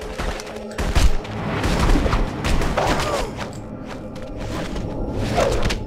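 Gunfire in The Punisher video game, a loud, close run of gunshots and bursts with thuds and booms, dense and irregular across several seconds.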